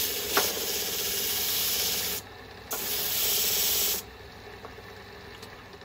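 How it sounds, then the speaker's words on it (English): A sanding wheel runs against a wooden snowman turning on a lathe, making a loud abrasive hiss in two long bursts separated by a short pause, with faint mechanical ticking underneath. "Sanding wheel on, let's get a little ramming speed there."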